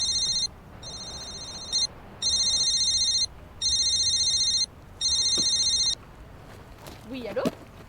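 A telephone rings in repeated electronic bursts, four to five evenly spaced trills, fairly loud and close, followed by brief faint sounds.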